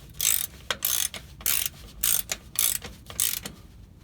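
Metal clicks and ratcheting come from a breather valve being worked off the rear axle of a Land Rover Series 3, in about eight short bursts separated by gaps, close and moderately loud.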